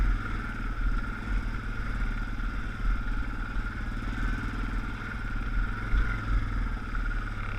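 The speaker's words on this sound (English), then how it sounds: "I'm just very lightly touching the throttle in low gear four-wheel drive. Just allowing the bike to crawl over it gently." An off-road motorcycle in low gear with the throttle barely touched, crawling gently over rocky terrain: a steady low engine rumble with some clatter, fairly loud and continuous throughout, with no talking.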